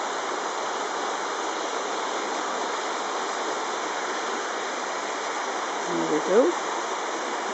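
A river flows steadily down from a waterfall at Crawfordsburn Country Park, a constant broad rushing hiss, with a brief voice over it near the end.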